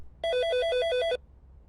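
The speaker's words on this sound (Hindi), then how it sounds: "देखो किसी का फोन आ रहा है" Indoor telephone ringing with a single electronic burst of about one second, a fast trill alternating between two tones, close and clear over faint background noise.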